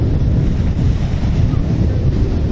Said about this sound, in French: Il y a vraiment, vraiment trop de vent.